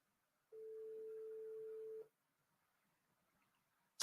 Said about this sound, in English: What we could do is call Chella, which we'll do that